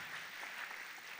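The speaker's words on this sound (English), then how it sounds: "Can we have a round of applause for the champion?" Applause from the audience at a regional quiz final, cheering the champion: a dense, distant wash of clapping that stays even and soft throughout the brief moment.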